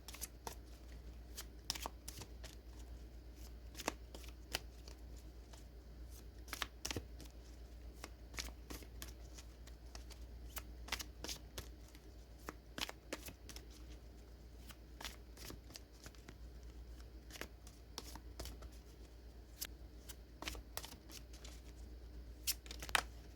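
Feather tip oracle cards shuffled by hand, a long run of soft irregular riffling and crisp card snaps, close and quiet, with no talk.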